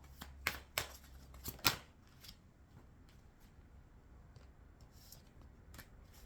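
Tarot cards being shuffled and dealt, a few sharp riffling snaps near the start, then soft, faint card slides and taps, quiet and close, with no talking.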